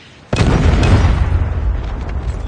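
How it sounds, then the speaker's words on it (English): A Predator missile explodes in Call of Duty ranked multiplayer: a sudden loud boom after a brief quiet lead-in, then a long rumbling blast and debris roar that stays heavy and slowly fades. "Predator missile inbound."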